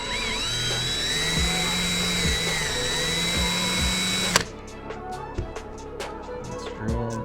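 A power drill bores out an old screw, a loud steady whine with a shifting pitch that runs for about four seconds and then cuts off. Quieter knocks and handling clatter from the work follow.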